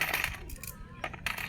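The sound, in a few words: saved coins dropping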